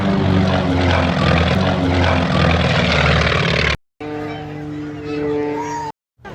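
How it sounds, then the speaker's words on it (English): A stunt propeller plane performing tricks at a Nebraska air show drones loudly with a sustained engine roar, and it cuts out twice in sudden breaks. Speech is mixed in under the sound. "this pilot did a lot of tricks, just like flipping the plane 360 and coming down at the same time"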